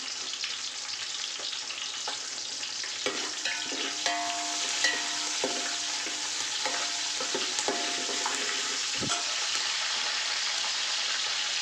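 Curry leaves frying in hot oil in a pan for chicken pulao, a steady close hiss of sizzling throughout with occasional stirring clinks and scrapes.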